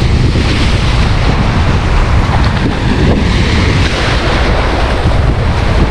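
Rough sea waves surge around an island shore, a loud, continuous roar of surf mixed with heavy wind buffeting the microphone, steady throughout with no talking.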